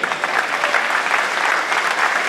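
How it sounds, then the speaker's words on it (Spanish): A crowd at an amateur boxing event applauds loudly and steadily, dense clapping filling the whole short stretch without a break. "Fuerte el aplauso"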